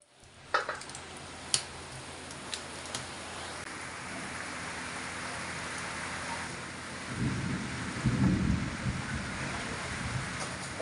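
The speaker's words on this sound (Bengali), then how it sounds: "ঝিরে ঝিরে ঝিরে ঝিরে ফোটা ফোটা বৃষ্টি হচ্ছে" Light drizzle falling during a thunderstorm, a soft constant patter with a few sharp drip clicks, then a low rolling rumble of distant thunder swelling and fading in the later seconds.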